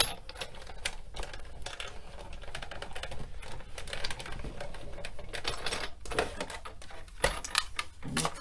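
A die-cutting machine runs a stamped cupcake panel and stitched circle die through its rollers, making a steady, close, rattling mechanical clatter throughout.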